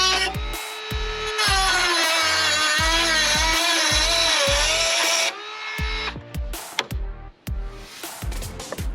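A Dremel rotary tool cuts a hole in a Jeep JL body panel to fit a snorkel, giving a loud, close, high whine with a grinding buzz that holds steady for several seconds and then drops to rougher, intermittent cutting.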